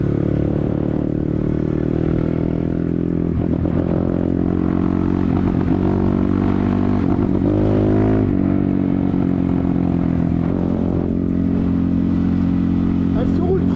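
A BTC T18 motorcycle out on a ride, its engine droning steadily and close with a low rumble and some clatter, shifting pitch slightly as it pulls along, with someone talking over it throughout.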